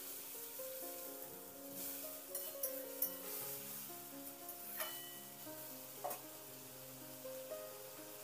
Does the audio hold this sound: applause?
no